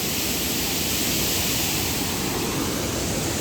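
A waterfall near a dam in Virar roars as a dense, continuous rush of falling water, loud and close, with no break and no voices over it.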